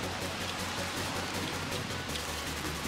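Steady, dense heavy rain pours down at the seaside with a constant broadband hiss and a low rumble underneath, heavy and unbroken throughout.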